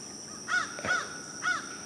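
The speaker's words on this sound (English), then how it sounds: "You can still hear that crow." A crow caws near a creek: three clear, fairly loud caws in an uneven rhythm over a quiet background, with no talking.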